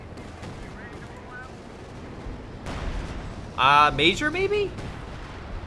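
A Company of Heroes 2 artillery strike brings a low rumbling barrage of booms and crackling blasts in the middle of the stretch, with someone talking briefly over the game sounds.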